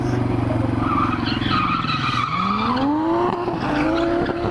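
A car drifting at a test ground, its engine revving loudly while tires squeal in long rising and falling screeches, close and continuous with no talk.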